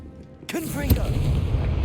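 A Confringo fire spell in Hogwarts Legacy goes off with a sudden loud whoosh and booming burst, followed by a rumbling tail, while a voice is heard calling out over it.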